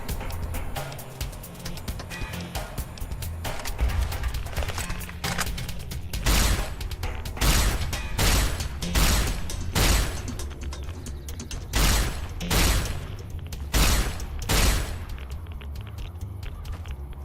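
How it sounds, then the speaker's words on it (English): A grenade rifle in Fallout New Vegas fires in the wasteland, giving a series of sharp, heavy booms that come every second or two after a stretch of softer mechanical clatter and ambient game noise. "Hit him with that grenade rifle."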